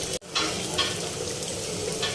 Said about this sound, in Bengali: একটু বেগুন ভাজা করে নিচ্ছি।